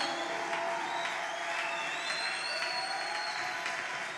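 A church congregation applauding and cheering to acclaim God, a sustained wash of clapping with whoops and voices throughout, steady and fairly distant.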